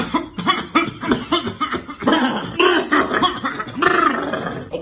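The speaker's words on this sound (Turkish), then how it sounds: "Bende böyle birkaç gündür kuru öksürük var." A person coughs repeatedly in short, dry, harsh bursts, close and loud, with grunting breaths between coughs.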